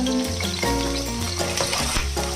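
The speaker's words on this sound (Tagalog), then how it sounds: "Igisa lang natin ito" Chicken gizzards and chicken breast sautéing in a pan, a close, continuous sizzle with bursts of stirring and scraping throughout, fairly loud and without talk.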